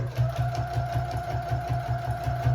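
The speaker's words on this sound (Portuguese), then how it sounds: "vou endireitando o meu pezinho de máquina e aí eu retorno a costurar" A sewing machine stitches steadily along a curved binding strip, its needle thumping in a fast, even rhythm that runs close and loud for the whole stretch with no talk.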